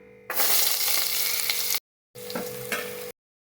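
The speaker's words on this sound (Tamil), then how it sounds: "பொரிச்சு எடுத்த எண்ணெயே ஆட் பண்ணியிருக்கிறேன். இப்போ நம்ம பூண்டை ஆட் பண்ணிக்கலாம்." Garlic hits hot oil, already used for deep frying, for chicken Manchurian and sizzles in a steady hiss, which breaks off briefly and then resumes as a second sizzling burst.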